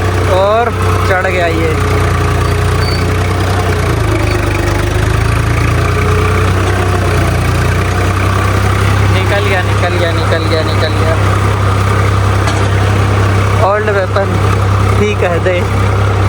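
A Swaraj tractor engine drones steadily throughout while climbing a hill, a constant low chugging hum, with a voice talking over it at moments.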